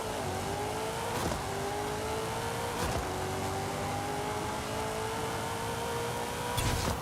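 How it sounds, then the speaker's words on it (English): A Cadillac CT4-V Blackwing engine in Forza Horizon 5 revs loudly and steadily, its pitch climbing slowly in a sustained, close, high-powered drone with brief surges and no talking. "the next car here is the CT4-V Cadillac Blackwing here"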